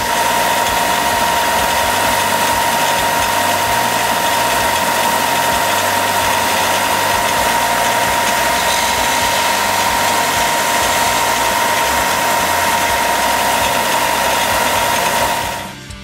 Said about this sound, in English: I'm going to have to stagger it along the belt sander